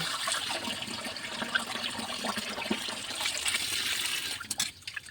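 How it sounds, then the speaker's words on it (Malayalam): Water pours into a pot of shark curry, a steady close splashing flow that runs for several seconds and tapers off near the end, with no talking. "അപ്പം തന്നെ കുറച്ച് പച്ചവെള്ളവും കൂടി ഒഴിക്കണം"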